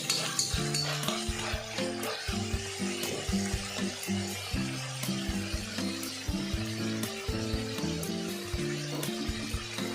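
Chicken gizzard sautéed in a pan, a steady sizzle under repeated stirring and scraping of a utensil against the metal, close and continuous for the whole stretch with no talking.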